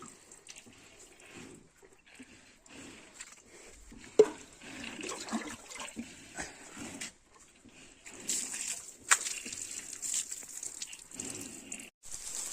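Water is poured out on a farm under the hot sun, a splashing, trickling stream that comes and goes in uneven bursts, fairly close and moderately loud.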